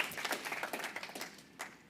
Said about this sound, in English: yes, we'll clap for that